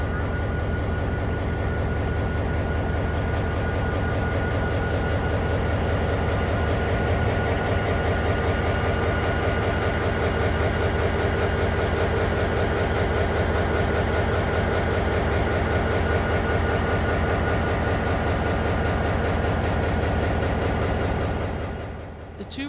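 A GP39RN diesel locomotive with a turbocharged 12-cylinder 2,500-horsepower engine hauls a scenic railway train past, its steady loud drone and rumble continuing unbroken for about twenty seconds before cutting off abruptly.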